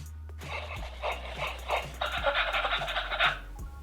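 A small electronic IMC Toys robot puppy yips and barks in short repeated bursts, with a mechanical whirring hum underneath.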